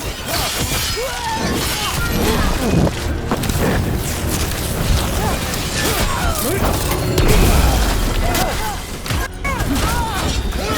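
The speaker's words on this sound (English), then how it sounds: "They've got mortars!" Mortar shells explode in a Dragon Age: The Veilguard battle, giving dense overlapping crashes, booms and shattering debris that run through the whole stretch at loud, steady intensity, with a few especially heavy impacts.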